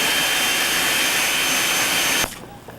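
A winery machine fitted with an auger, at the Inglenook winery, roars with a loud, steady rushing whine for about two seconds. Then it cuts off abruptly, leaving a quieter background.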